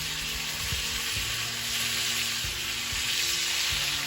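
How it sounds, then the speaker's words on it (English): Steaks searing in a hot pan while being basted with butter, a loud, continuous sizzle with bubbling crackle and occasional scrapes and flips, close by and with no talking. "Again, we're building that crust and bathing them with that butter"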